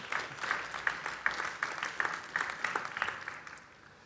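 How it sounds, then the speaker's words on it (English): A pitch-event audience applauds a presenter after a software startup pitch, a brisk, fairly even run of claps that thins and fades toward the end. "applause for you"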